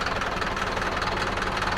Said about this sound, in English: First thing you're going to do is start the vehicle.